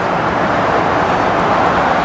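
Loud, constant roar of freeway traffic in Denver, cars and trucks blending into one dense wash of road noise nearby, steady without pauses.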